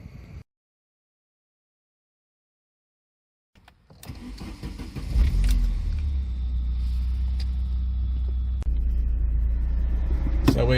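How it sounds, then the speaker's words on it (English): A 1988 Saab 9000 2.0 Turbo 16 Carlsson cranks and fires up after a brief silence, then settles into a steady, close, loud engine rumble that continues to the end. "have some more turbo action and go for another drive"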